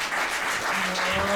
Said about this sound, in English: the crowd is showing their appreciation here at the dojo